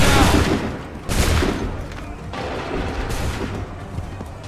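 Musket volleys fired by soldiers in Assassin's Creed 3, a loud ragged crash of many shots at once, followed by a second volley about a second later and another near the end, with rolling echo between them.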